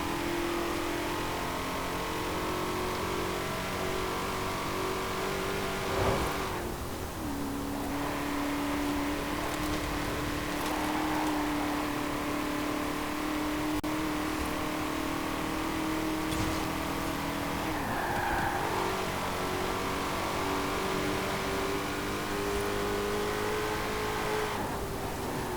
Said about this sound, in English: listen to the engine for a little bit